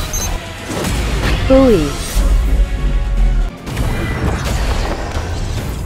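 A grenade blast in the action game Solo Leveling Arise: a loud, low boom and crashing rumble that cuts off abruptly, surrounded by game sound effects and a character's voice.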